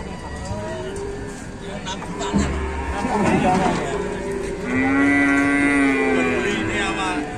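Cattle moo repeatedly from a livestock transport vehicle at Ambarawa market, loud and close, with long drawn-out calls over market chatter and people talking nearby.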